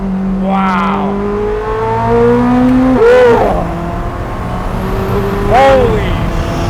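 Koenigsegg engine in manual mode downshifting through the gears, with three sharp rev blips rising and falling over a steady engine drone, heard from close range with excited voices over it.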